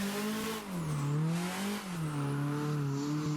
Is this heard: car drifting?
yes